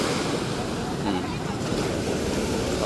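Strong surf rolls on the Davao Gulf in a continuous, loud wash of breaking waves, with wind buffeting the microphone throughout.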